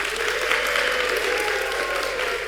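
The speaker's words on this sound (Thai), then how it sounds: "ขอเสียงปรบมือให้กับคู่บ่าวสาวของเราด้วยนะคะ" A crowd claps steadily for a bride and groom at a wedding, a dense, continuous wash of applause with a faint voice underneath.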